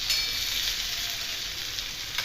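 Tomato and masala sauté in a pan with a steady, moderately quiet hiss of frying, unbroken and without voices.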